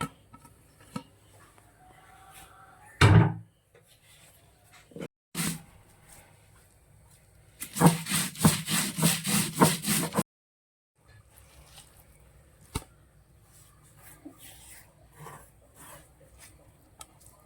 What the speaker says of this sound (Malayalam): ഇതുകൂടി നമുക്കൊന്ന് ചതച്ചെടുക്കാം. നമുക്കിതെല്ലാം കൂടി ഒന്ന് ജസ്റ്റ് ഒന്ന് ചതച്ചെടുക്കാം.